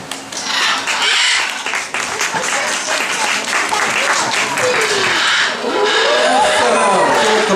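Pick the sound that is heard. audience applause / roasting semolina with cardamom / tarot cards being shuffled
audience applause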